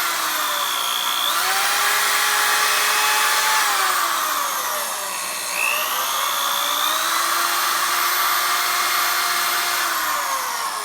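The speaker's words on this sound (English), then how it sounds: "you want to kind of keep this buffing wheel at the same" A motorized buffing wheel power-strops a knife edge, whining continuously with shifting pitch as pressure varies, loud and close with no talk.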